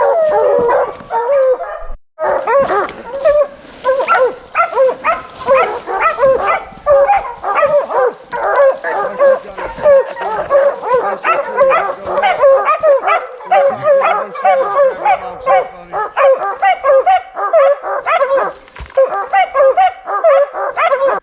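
A pack of hunting dogs bays and barks nonstop at a bear in a tree, loud rapid overlapping barks and howls close by, with a person's voice now and then.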